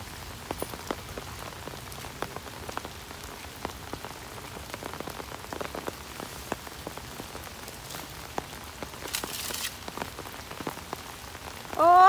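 Rain falls on surfaces close by, a soft steady patter with scattered distinct drops ticking and tapping, ending in a brief louder rustle.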